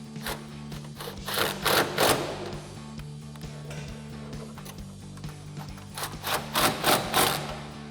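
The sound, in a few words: tightening exhaust hangers with a 13mm socket and swivel socket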